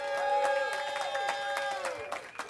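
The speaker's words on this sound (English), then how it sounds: "can we get the biggest round of applause of the night so far for Hopper Haus for hosting us?" An audience at a community awards event claps and cheers for the host venue Hopper Haus, with scattered claps and whoops under a sustained sung or held voiced tone, fairly quiet and distant, tapering off at the end.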